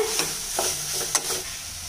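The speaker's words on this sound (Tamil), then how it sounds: "இப்போ இதை நல்லா பெரட்டி விட்டுடலாம்." Cauliflower kichadi is stirred in a pan over medium flame, a soft sizzle running underneath several scraping strokes of the spoon, close and moderately quiet.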